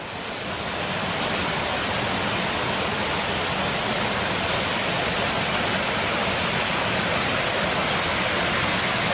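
Bridal Veil Falls roaring as a steady, loud, broadband rush of falling water that swells in the first second and then holds constant.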